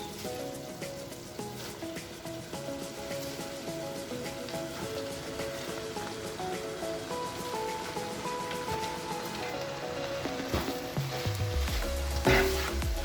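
Amaranth greens sizzle and crackle steadily as they are stir-fried for Cameroonian efo-tete. The frying hiss is close and constant, with brief stirring scrapes near the end.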